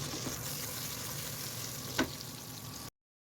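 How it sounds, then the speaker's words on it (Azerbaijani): Potatoes fry in a covered pan over high gas heat with a steady, close, even sizzle, broken by one brief sharp clink before the sound cuts off abruptly. Nobody talks. "Tavanın qapağını örtüb qazın yüksək temperaturunda kartofu qızardıram."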